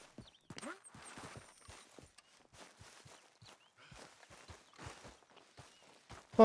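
Horse hooves clip-clop in Red Dead Redemption 2 as a steady run of soft, close hoof thuds at a walking pace, with brief game sounds mixed in.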